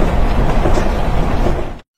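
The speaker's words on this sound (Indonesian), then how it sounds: "Tak lama kereta mulai berangkat." Passenger train pulling away, a steady loud rumble of wagons rolling on rails with a faint clickety-clack, cutting off abruptly at the end.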